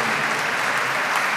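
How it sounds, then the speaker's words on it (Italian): An audience applauds the president of the composition jury at the Pittaluga International Guitar Competition, a dense, steady, loud wash of clapping filling a hall throughout. "Applaudiamo il presidente della giuria di composizione."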